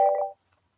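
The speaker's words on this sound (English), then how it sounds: "What's going on with this phone?" A telephone sounds a short burst of odd, layered dialing tones for about a third of a second, then falls almost silent apart from a faint click.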